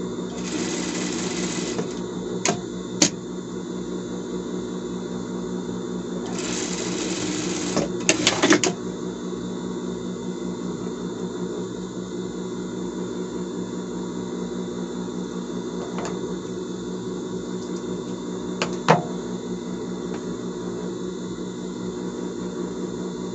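An overlock sewing machine finishes a seam on fabric, its rapid motor buzz running continuously at moderate volume, broken by a few short bursts and clicks as stitching starts and stops.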